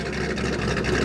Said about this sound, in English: here's the TVR Chimera. What a great sound that makes.